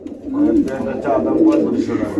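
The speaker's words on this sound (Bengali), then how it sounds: "এখানে রয়েছে এক পেয়ার শাড়ি কবুতর" A pair of fancy pigeons of a saree-type breed coo steadily in a loud, close, continuous run, their low warbling calls filling the whole stretch.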